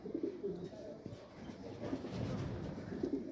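A racing pigeon coos nearby, soft low repeated cooing phrases over a quiet background, with a brief louder rustle at the end and no speech.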